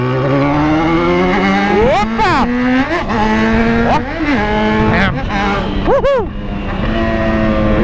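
A Yamaha XJ6 motorcycle with a bare-pipe exhaust roars loudly at close range, its engine revving up and down in repeated sharp sweeps, with a rider's brief exclamation over the din.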